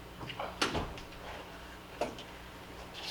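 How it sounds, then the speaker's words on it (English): A door shuts with a couple of sharp knocks inside a town council meeting room, a thud near 0.6 s and another near 2 s over quiet room tone, with faint voices nearby. "There goes the door."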